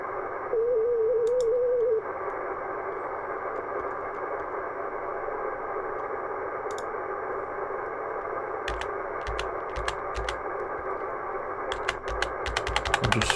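An FT-891 amateur radio receiver hisses with steady band noise as it is tuned across frequencies, a brief warbling tone near the start and scattered clicks and crackles toward the end.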